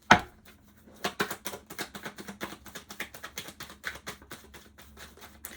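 Light taps and clicks of tarot cards placed on a table come in an irregular, rapid series, close up with no talking.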